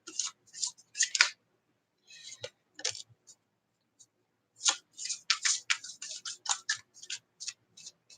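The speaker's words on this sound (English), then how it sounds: "Hold on, let me clear the cards." Tarot cards are gathered and shuffled off a table in short bursts of crisp, light clicks and slides, close and fairly quiet, with pauses between handfuls and a faint voice in the background.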